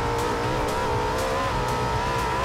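Audi RS5 racing in the video game Forza Horizon 2: a continuous engine drone with shifting pitch as the car accelerates, loud and unbroken throughout.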